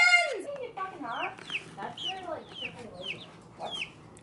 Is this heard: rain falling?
no